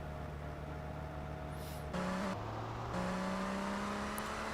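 A bulldozer's engine in GTA Vice City Stories drones steadily in steady tones that shift pitch twice, a loud, constant mechanical hum with no voices.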